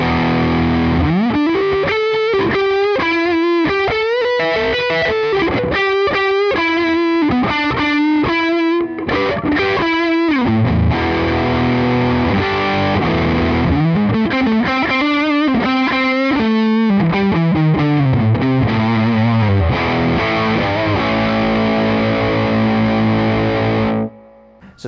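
Dean USA ML Prototype electric guitar on its neck humbucker through heavy distortion, a thick, saturated lead with fast melodic runs, bends and sustained notes, loud and solo before stopping sharply.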